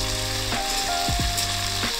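Vegetables including yardlong beans, ridge gourd and cauliflower, tossed with ginger and chilli, sizzle steadily in a hot pan for a mixed-vegetable labra, with a few scraping stirs of a spoon against the metal.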